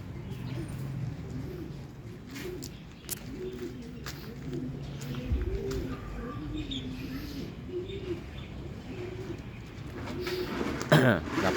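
Racing pigeons cooing at a home loft in Morong, Rizal, repeated soft rolling coos in a steady rhythm close by, with occasional chirps and a faint background hum.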